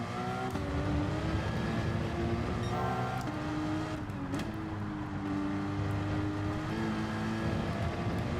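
A race car downshifting in Gran Turismo 7, engine note steady and buzzing with several quick pitch jumps as gears drop, heard continuously at moderate level.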